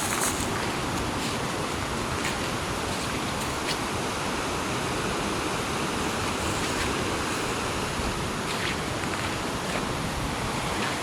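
Water in a mountain river rushes in a steady, close, full roar that carries through the whole stretch without a break.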